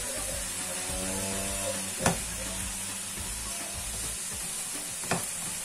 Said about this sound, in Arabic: نبقاو نحركو مزيان باش داك المكونات تخلط مع بعضياتها